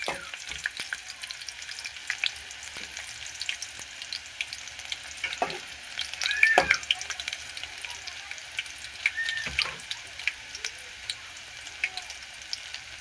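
Garlic frying slowly in a pan for a rajgari greens recipe, a steady soft sizzle running throughout with a few louder scrapes and stirs of a spoon standing out near the middle.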